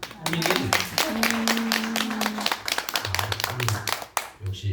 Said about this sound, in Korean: 역시 신심이 있는 분들은 박수도 잘